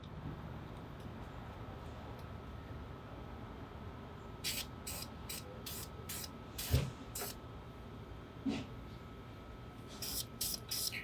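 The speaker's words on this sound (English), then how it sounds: "We're going to give it a little small coat of the primer." Short bursts of spray paint hiss from an aerosol can as a primer coat goes onto a Weber Smokey Mountain smoker, several quick puffs over faint background noise.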